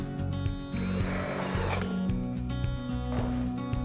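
A power drill with a step bit boring a hole through aluminum on an overland camper, a close whirring motor with harmonic whine and two rougher bursts as the bit bites the metal.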